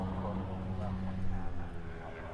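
A FedEx feeder plane revving its engine at an airfield in Hawaii gives a steady, droning hum that holds throughout, heard at a moderate distance.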